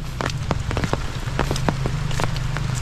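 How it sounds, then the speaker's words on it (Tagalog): Steady rain falls hard and close, a dense hiss of drops with many sharp individual splats and patters on a surface, continuous throughout with no voices. "maghapon na yung ulan."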